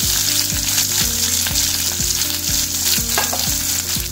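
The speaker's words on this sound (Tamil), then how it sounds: "சேர்த்து நல்லா கிண்டிக்கணும் வதங்குற அளவுக்கு" Onions sautéing in hot oil in a pan, a loud dense sizzle with a steady rhythmic scraping as the spoon turns them about twice a second, nearby and uninterrupted.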